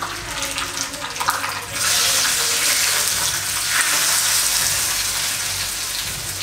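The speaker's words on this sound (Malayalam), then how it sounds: "ഈ താളിച്ചു വെച്ച ഇൻഗ്രീഡിയൻസ് നമ്മുടെ സാമ്പാറിലോട്ടേക്ക് ചേർത്ത് കൊടുക്കട്ടെ" Hot tempering for a Kannur-style roasted-coconut sambar hisses loudly as it is poured into the pot, first with a short burst and then a steady, close sizzle that lasts several seconds.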